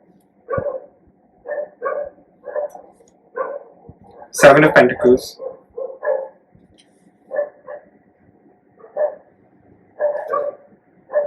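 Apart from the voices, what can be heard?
dogs barking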